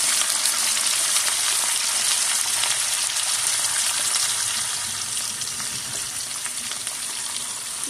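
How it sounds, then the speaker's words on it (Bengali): Onion paste and ginger-garlic paste fry in hot oil in a pan for tangra fish with potatoes and poppy seed, giving a loud, continuous hissing sizzle close by that eases slightly toward the end. "এখন আমি এর সঙ্গে এক এক করে সমস্ত মশলাগুলো দিয়ে দিব। পেঁয়াজ বাটা দিয়ে দিব, আদা রসুন বাটা দিয়ে দিব"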